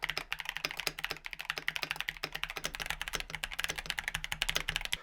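Dense, steady typing on a mechanical keyboard fitted with Kailh Box Red Bean Pudding linear switches, rapid overlapping keystrokes clacking continuously at close range with no voices.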